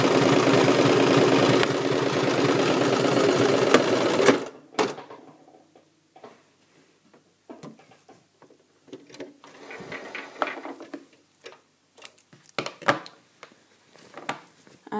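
A sewing machine stitches steadily and loudly around the armhole of a basic tunic for about four and a half seconds, then stops, leaving scattered quiet fabric handling and small clicks.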